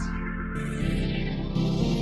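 A sustained tone from the Grain sample manipulator synth in Reason with a slowly sweeping, whooshing phaser effect as the notes step upward, played alone.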